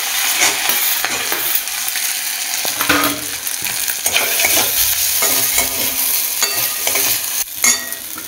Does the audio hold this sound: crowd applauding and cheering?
no